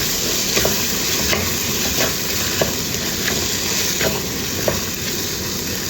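Soaked chana dal sizzles and fries in a pan with masala, a steady loud hiss with soft periodic scrapes from the stirring spoon.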